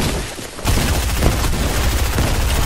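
Fortnite video game gunfire hits in a loud, continuous burst of shots and booms, stepping up suddenly and staying dense throughout with no talk over it.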